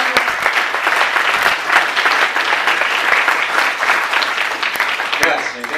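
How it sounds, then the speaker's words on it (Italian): An audience applauds at an Italian comics award ceremony as the master of ceremonies is introduced; dense, continuous clapping with sharp individual claps stands out, and the applause carries on throughout. "Un applauso al Papa di Sera,"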